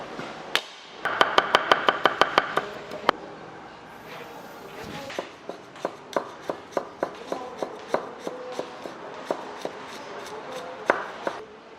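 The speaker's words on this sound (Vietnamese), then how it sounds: "băm tỏi ra để làm nước chấm" Garlic minced with a knife on a cutting board for a dipping sauce: rapid, evenly spaced sharp chops close up, a short burst, a brief pause, then a longer steady run of knocks.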